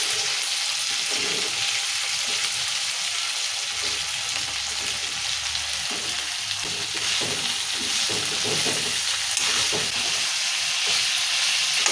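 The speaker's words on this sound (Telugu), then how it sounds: "ఇవన్నీ నూనెలో ఇట్లా వేసుకున్నాము. మిరపకాయలు కూడా వేసుకున్నాము." Green chilies, coriander and mint frying in hot oil in a pan, a steady close sizzle and hiss with occasional stirring scrapes throughout.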